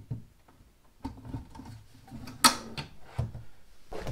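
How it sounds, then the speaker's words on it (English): A drawer box is fitted into a Festool SysPort cabinet, a sequence of close wooden knocks, sliding scrapes and sharp clicks with one louder snap partway through, spaced irregularly over a few seconds without talk. "let's go install the first drawer that I put in"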